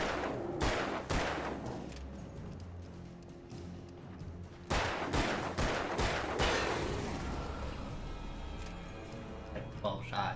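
Gunshots in a video game ring out in sharp loud bursts: several rapid reports early, then another cluster midway, each followed by a decaying tail, with a voice talking between them.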